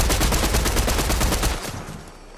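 Rapid bursts of gunfire trade back and forth in a shooter video game, loud and dense for about a second and a half before cutting off, leaving only a low trailing rumble.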